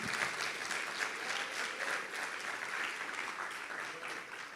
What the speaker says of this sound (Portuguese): Você está aplaudindo a palavra